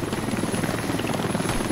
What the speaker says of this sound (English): Oh yeah, shit, there is an enemy heli.